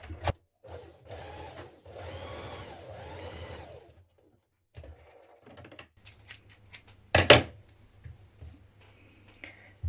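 Sewing machine stitching two short fabric edges together with right sides facing, for a 1970s vintage wrap dress cuff; short bursts of whirring stitching with pauses, a scissor-like snip, close and fairly quiet.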